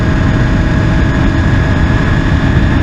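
A motorcycle engine holds an open throttle through a lean into a corner. The roar is loud, steady and close, with strong low rumble and wind noise.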